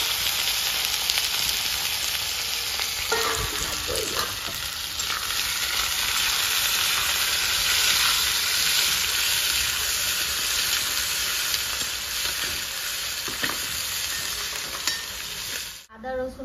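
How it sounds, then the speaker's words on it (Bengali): Onion goes into oil with cloves, cardamom, dried red chilies, cumin and bay leaf for doi chicken, a loud, dense, hissing sizzle that runs steadily and cuts off abruptly near the end. "আর কেটে ধুয়ে রাখা পেঁয়াজটা দিয়ে দিচ্ছি।"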